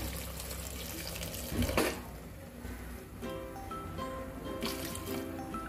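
Water splashes and trickles into a pressure cooker nearby while making tomato soup, with a brief louder gush partway through, then a steady running stream.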